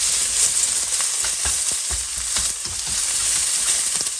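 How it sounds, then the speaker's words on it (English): Noodles frying in a wok with soy sauce, bean sprouts and spring onions, giving a loud steady hiss with occasional pops and stirring scrapes, close up and without speech. "We fried it for about a minute"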